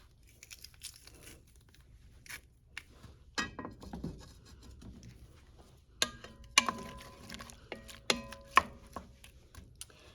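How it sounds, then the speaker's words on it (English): Garlic cloves minced with a knife on a cutting board in a small Alaska cabin kitchen: sparse irregular chops at first, then a quicker series of sharp close knocks with quiet gaps between. "And 3 more cloves of garlic that we're going to mince up."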